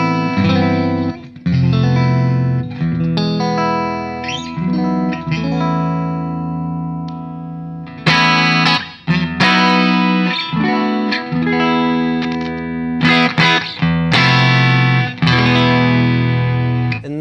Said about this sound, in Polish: czyli to jest czysta barwa, jak słyszycie, jest bardzo przejrzysta,